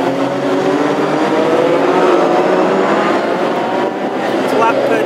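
Classic hot rod race cars at speed on a local short oval track, a loud continuous roar of engines passing close under race commentary.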